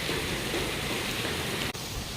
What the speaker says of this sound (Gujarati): અત્યારે ફૂલ વરસાદ થઈ ગયો ને તો રોડ ઉપર બધે પાણી ભરાઈ ગયા છે